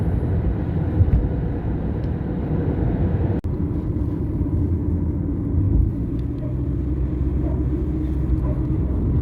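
A car drives along a road toward the Three Country Point of the Netherlands, Germany and Belgium, with a steady low rumble of engine and tyres heard from inside the vehicle throughout.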